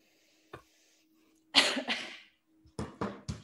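Several coughs from one person, close and fairly loud: a single short cough first, then a cluster of three or four harsh coughs after a brief pause, with no talking.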